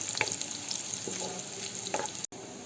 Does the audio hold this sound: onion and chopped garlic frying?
yes